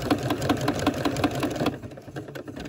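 Sewing machine stitching reinforced stitches on a fabric-wrapped coiled rope bowl, a close, steady rhythmic chatter of needle strokes that stops partway, leaving quieter handling noise.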